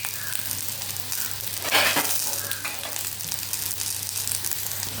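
Potatoes sizzling in a pan with garlic and curry leaves for a potato pepper fry, a steady loud crackle with a brief stirring burst near the middle, no voices.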